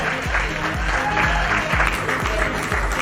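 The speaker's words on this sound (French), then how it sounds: "On va applaudir très fort Manik" A crowd claps continuously at the closing ceremony of a book and culture festival in Côte d'Ivoire, an even wash of many hands over a regular low thumping beat, loud and unbroken throughout.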